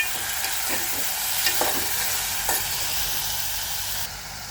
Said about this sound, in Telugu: ఉల్లిపాయ అయితే వేసేసాను ఫ్రై అయ్యాయి టమాటో అయితే వేస్తున్నాను